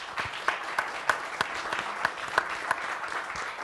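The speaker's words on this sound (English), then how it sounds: "I hope you'll all join me in giving a round of applause to our panelists" Fairly faint applause from an audience at a journalists' panel discussion, scattered claps standing out over a softer patter of hands.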